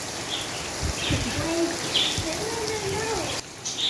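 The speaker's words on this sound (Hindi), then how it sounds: "अभी बारिश शुरू हो गई अल्हम्दुलिल्लाह" Rain falling outdoors under a dark cloud after a hot sunny spell, a steady soft patter with faint bird calls and brief voice-like sounds in the background.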